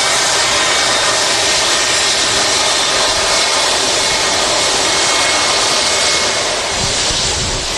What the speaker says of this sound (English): Giving it a rev there. Getting the 757 rolling on the taxiway.